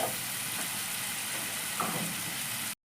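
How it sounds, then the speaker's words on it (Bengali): Spice masala frying in a pan for a bottle gourd dum curry, a low, steady hiss of oil with faint stirring, quiet and close, cutting off abruptly at the end. "এবার মশলাটাকে আমি সুন্দর করে এখন কষে নেব।"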